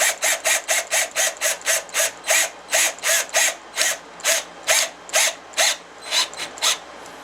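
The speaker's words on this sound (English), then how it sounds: "Now I'm using these self-drilling screws." Self-drilling screws are driven through a plate into a wooden base for a black walnut lazy Susan, giving about twenty rapid, evenly spaced ratcheting bursts from a nearby tool, loud and alone.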